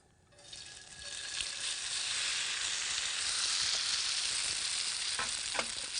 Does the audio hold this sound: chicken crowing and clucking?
no